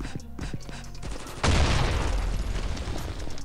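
Gunfire in the mobile shooter Combat Master Online: a sudden loud burst of shooting cuts in partway through and carries on as dense, noisy game sound.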